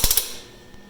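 A power tool runs three quick ratcheting bursts while tightening the bolts on a brine strainer, close and sharp, then fades to a quiet hum.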